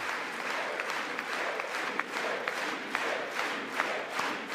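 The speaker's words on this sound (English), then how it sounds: "Dems aren't seriously clapping for that, folks" Steady applause from the audience at a State of the Union address fills the whole stretch, a dense wash of clapping with a few sharper claps poking out, no talking.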